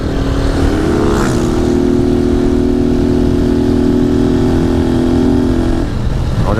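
A Honda Titan 150 motorcycle fitted with a Gemoto exhaust idles with a steady, throaty engine rumble, close and loud, holding an even note for several seconds with a brief rev near the start.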